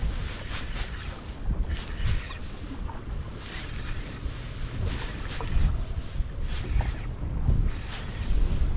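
A small fishing boat drifts slowly across a flat on a smallmouth bass outing, with steady engine and hull rumble, lapping water and gusty wind buffeting the microphone, no talking.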